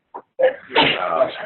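A single sharp sneeze, close and loud, preceded by a quick intake of breath.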